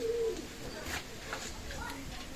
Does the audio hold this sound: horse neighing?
no